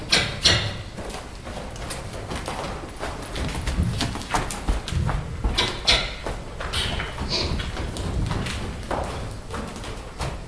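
A horse lopes on a riding surface during a first ride, its hooves giving a rhythmic clip-clop of repeated thuds that rise and fall, close by, with no talk.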